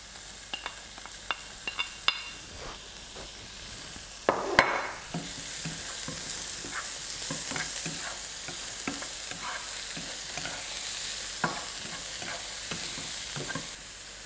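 Browns drop into a hot pan for pineapple fried rice with carrot and sizzle steadily, punctuated by frequent clicks and scrapes of a spatula stirring them, fairly close and without talk.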